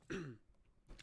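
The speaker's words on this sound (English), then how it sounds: "aggressively coughing to notify me of my unquenched thirst" A video game character clears the throat with a single short rasping cough, followed by a fainter second throaty sound, quiet and close.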